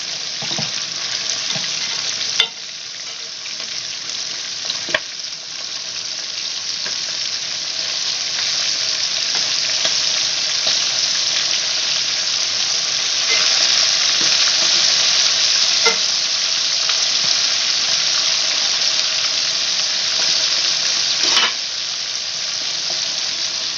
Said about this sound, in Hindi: इसको अच्छे तरीके से आपने तल लेना।